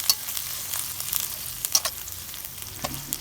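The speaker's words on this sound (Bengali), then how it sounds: "পেঁয়াজ বাটাগুলোকে আমি একটু ভেজে নেব তেলের মধ্যে।" Onion paste fries in hot oil for fish balls, giving a close, even sizzle with small crackling pops throughout.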